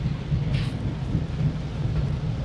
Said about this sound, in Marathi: मजबूत पाऊस पडतो इथे